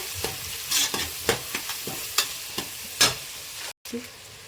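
Rice for egg biryani frying in oil, stirred in a regular rhythm of scrapes and taps over a constant hiss, close up, with a short silent gap near the end.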